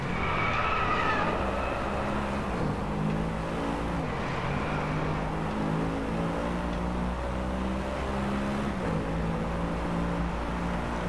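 Car tyres sliding briefly in the PS4 racing game Driveclub, set against a steady, loud engine drone with shifting pitch that runs throughout without pause.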